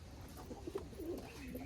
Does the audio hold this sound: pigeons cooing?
yes